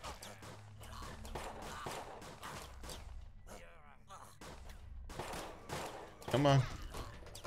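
Shotgun fire in a video game, a series of sharp blasts scattered through the stretch with one heavier thump near the end, under a person talking.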